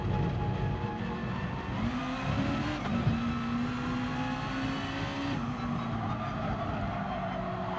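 A race car engine in GT Sport drones and strains steadily at high revs with a whining, slowly rising pitch, loud and continuous throughout, no talk over it.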